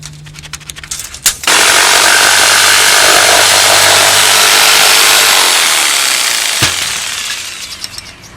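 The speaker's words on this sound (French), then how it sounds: "Donc là j'ai fait ma coupe sur l'envers parce que ma scie sauteuse remonte avec les dents" A jigsaw cuts through a Silverwood wooden cladding board with a loud, continuous buzzing rasp lasting several seconds, preceded and followed by brief clicks and handling noises up close.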